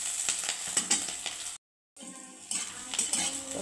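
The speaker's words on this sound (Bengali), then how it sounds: "এটাকে কিন্তু আমি ভেজে নেব" Chopped onions and dried chillies fry in a pan, with metal utensil clinks and stirring scrapes over a light sizzle, broken by a brief silent gap partway through.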